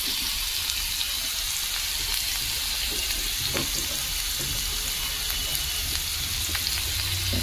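Raw onion frying in oil in a pan, with a dense, even sizzle heard close up and a few faint stirring clicks, no voices.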